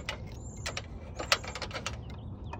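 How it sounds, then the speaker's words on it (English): Chain grip pliers with adjustable chain links are handled up close, making small metallic clicks, rattles and a brief creak and squeak over a low background hum, with no talk. "These are my chain grip pliers. Let me show you how they work."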